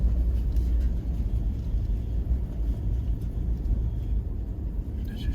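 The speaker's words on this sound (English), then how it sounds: "I don't like the stupid branches making the noise underneath the truck" A truck rolls along a rough track with a steady low rumble, loud and close, as branches brush and scrape against its underside throughout.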